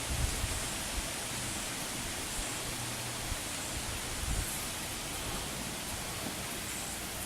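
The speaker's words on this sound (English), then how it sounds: "You can hear the wind going. Yeah, you can hear the wind." Steady broadband rushing of wind, a constant airy roar with occasional low buffeting gusts, no voices.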